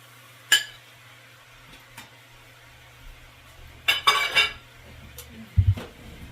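Eggs stirred back into shrimp fried rice in a pan, with a few sharp clinks and scrapes of a utensil against the pan and a soft low sizzle between them.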